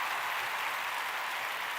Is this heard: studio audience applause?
yes